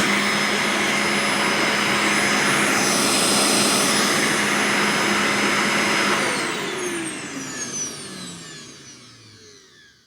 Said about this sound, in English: It has probably blown a bearing.